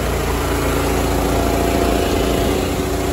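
Steady, loud engine drone of a bale-wrapping machine working pressed clover bales in a field, running continuously at an even idle-like pitch with a constant mechanical hum and vibration throughout.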